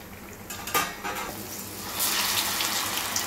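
Carrot and urad dal fritters frying in hot oil, a steady close sizzle that rises and grows louder as another fritter is dropped into the pan, with brief splashy clatters early on.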